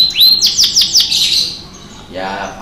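A Crowne canary sings at close range: a bright, rapid run of high chirps and rolling trills that descends in repeated sweeps, then shifts to a softer, buzzier warble near the end.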